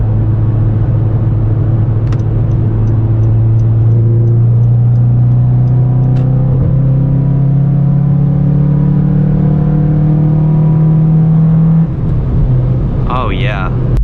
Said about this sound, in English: I'm gonna floor it in 5th gear just for fun.